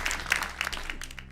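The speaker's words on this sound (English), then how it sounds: "Let's give him a round of applause." A brief burst of studio-audience clapping on a television game show, short and moderately loud over a faint low background hum.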